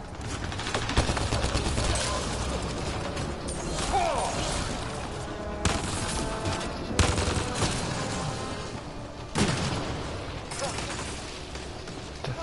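Rapid, loud gunfire crackles almost nonstop in the sci-fi shooter Andromeda, with dense bursts, crashing impacts and mechanical clatter piling up over several seconds while voices shout faintly underneath.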